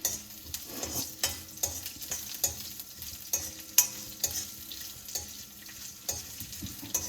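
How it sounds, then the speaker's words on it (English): Garlic and turmeric sauté in an iron pan with a steady sizzle, while a utensil scrapes and stirs in irregular strokes, each stroke sharp and close. "we are cooking in the iron pan. And once the garlic is a little bit caramelized, a little brownish, okay, I'm going to add the turmeric into it."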